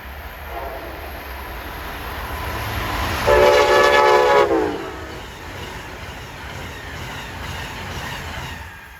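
Amtrak train 94, Norfolk to Boston, roars past over a steady rail rumble, with a loud horn blast lasting about a second near the middle before the noise fades back.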